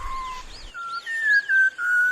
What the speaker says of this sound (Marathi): सह्याद्रीच्या खोल दरीतून शीळ कस्तुराची सुरेल शीळ कानावर पडते आहे